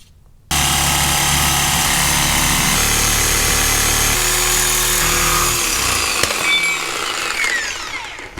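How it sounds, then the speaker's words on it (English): A Sawzall reciprocating saw cuts off a brake bracket during a rear big brake caliper upgrade on a 1996–2002 Dodge Viper, a loud, steady, buzzing metal-cutting drone that runs without a break for most of the clip, then slows and winds down near the end. "then we'll cut this off with the Sawzall"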